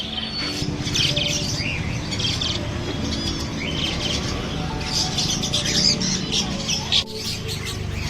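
Birds chirp and call amid a busy ornamental fish market, with steady crowd murmur and general market bustle throughout.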